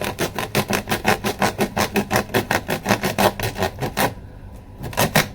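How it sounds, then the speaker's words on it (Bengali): Repeated rasping strokes of a handheld potato peeler sawing through a tight knot, about fifteen steady rhythmic scrapes close up, pausing briefly before a final pair of strokes; no talking. "ছুরিও নেই কি দিয়ে কাটছি দেখো আলু ছোলা দিয়ে"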